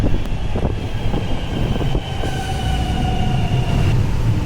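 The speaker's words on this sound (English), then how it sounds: "So here's our train." A Melbourne metro train rolls into a platform with a low rumble, wheel clatter and a rising squeal of brakes, loud and close.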